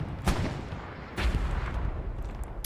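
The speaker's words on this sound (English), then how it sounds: "So you have two AT guns peppering the opposite side of the point" Anti-tank guns fire in Hell Let Loose on Purple Heart Lane: two loud, sharp booming shots about a second apart, each followed by a rumbling decay, with no talking.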